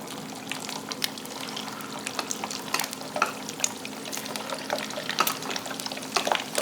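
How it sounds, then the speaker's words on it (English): Steady crackling sizzle of shrimp frying in hot oil for gambas al ajillo, with scattered sharper pops and spits throughout and no talking. "now you can hear it bubbling away"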